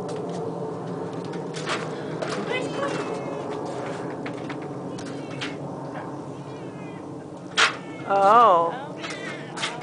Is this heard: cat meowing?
yes